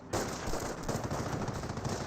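A half-track mounted machine gun in Company of Heroes fires a rapid, continuous burst that starts abruptly and stays steady and moderately loud until the end, with no talk over it.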